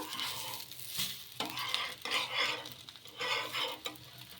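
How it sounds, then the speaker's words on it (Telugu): A peanut dosa frying in oil on a pan, with a steady soft sizzle and intermittent scraping strokes of a spatula against the metal, close up and with no talk. "ఇలా నూనె కూడా వేసేసుకొని ఒక సైడ్ బాగా కాలిన తర్వాత ఇంకో సైడ్ అయితే తిప్పేసుకుందాము"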